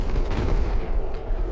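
Gunfire from ships firing at two Portuguese vessels on the eastern sea, as a sound effect: a continuous, loud rumble of heavy cannon fire and booms sustained throughout, with no voices.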